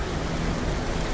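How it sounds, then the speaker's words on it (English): Normal rain falling, a brief, steady hiss of dense drops with no other sounds. "Only normal rain."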